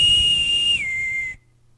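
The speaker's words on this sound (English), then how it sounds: "The sound of the boatswain whistle could be heard screeching across the deck." A boatswain's whistle shrills loudly on a ship's deck: one sustained piercing tone that steps down to a lower held pitch before cutting off abruptly, with no other sound around it.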